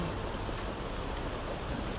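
Light drizzling rain makes a steady, even hiss that stays close and constant with no breaks or separate drops standing out.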